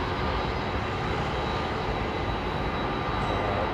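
An Icelandair jet at London Heathrow Airport holding on the ground, its engines giving a loud, steady broadband roar that runs unbroken and even throughout, with no voices.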